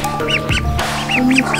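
Ducklings quack repeatedly in short, close, fairly loud calls, with a steady background hum and a few low thumps.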